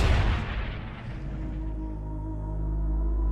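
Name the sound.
battleship bow artillery firing a salvo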